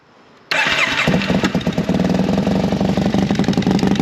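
A cold 750cc supermoto motorcycle engine catches after a brief starter crank and settles into a loud, rapid, uneven idle close by, with no talking.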